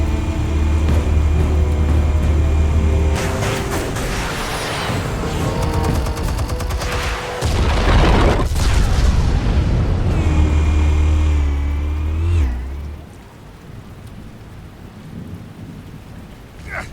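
A booming explosion from the video game Batman: The Telltale Series, a loud, rumbling blast sustained for several seconds over layered game audio, then dropping off sharply into a quieter ambience.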